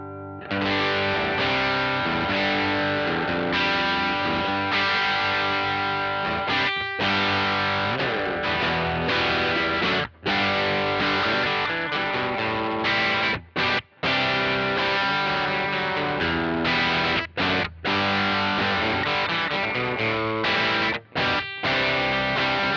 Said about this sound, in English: it also has a setting on which it doesn't compress that much, the open setting. So toggle switch to the right and let's hear what that sounds like.